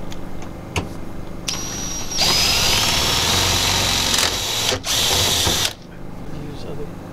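Power drill driving self-tapping screws into a ceiling, several loud whirring bursts of a few seconds each with short pauses between them, with people talking faintly around the drilling.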